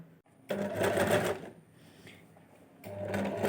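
A sewing machine stitches a pocket onto a nighty, running in two steady whirring bursts separated by a quieter pause.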